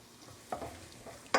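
Sliced white button mushrooms stirred in a hot pan, a soft sizzle with a few scraping stir strokes and a sharper clatter at the end, close and fairly quiet with no talking.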